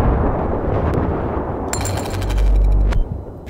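Rapid automatic gunfire from Battlefield 3 rattles in dense bursts throughout, loud and close, with a heavier burst swelling near the end; no one talks over it.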